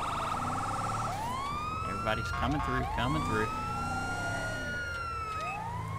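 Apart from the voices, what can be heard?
ambulance siren in GTA 5 video game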